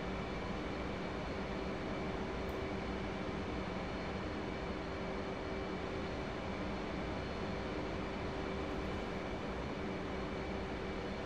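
An F/A-18C Hornet jet flies in the DCS flight simulator, circling behind an aircraft carrier at about 350 knots and 800 feet, giving a faint, steady engine roar with a thin whine that holds evenly throughout.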